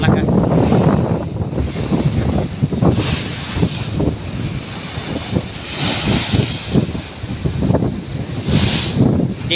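Strong monsoon wind buffets the microphone beside a rough sea at Isabel, Leyte, with big waves surging and crashing in a steady roar, and a voice speaks over it now and then.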